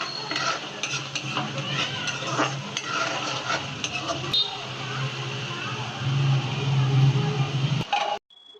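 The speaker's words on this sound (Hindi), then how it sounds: "धनिया पाउडर, लाल मिर्च और हल्दी पाउडर, ये मसाले डाल देंगे। अब इसको अच्छे से पका लेते हैं।" Onion and spice masala with coriander powder, red chili and turmeric sizzles in a pan while a utensil stirs and scrapes it, a continuous close frying hiss with repeated stirring clinks and a louder stretch near the end.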